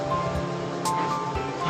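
Water drains and trickles from soaked grated potato being strained in a kitchen, a continuous splashing wash with a brief louder rush midway.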